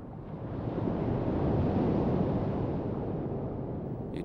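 Ocean surf washing onto the shores of remote Cocos Island in the open Pacific, a steady broadband roar of breaking waves that swells slightly and holds loud throughout, with no voices.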